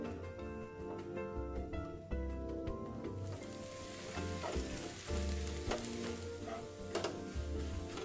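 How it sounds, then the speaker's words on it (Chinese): Sliced shallots sizzle steadily in 50 grams of hot cooking oil over medium heat, a dense continuous crackle with a lower rumble beneath, heard up close with no talking. "倒入食用油50克， 小紅蔥80克，切片後倒入爆香。"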